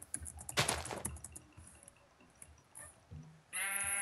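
Sheep in the Minecraft video game bleat in short bursts amid quiet in-game clicks and footsteps, with a louder, sustained tonal bleat near the end.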